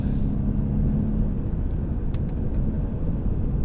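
A BMW F10 528i M Sport engine pulling hard, a dense, steady low rumble with road and wind roar filling the cabin, heard from inside the car.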